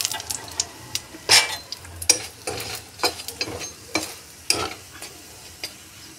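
A triangular cauliflower-stuffed paratha fries in a little oil in a pan, a constant crackling sizzle broken by repeated sharp scrapes and knocks of a utensil against the pan.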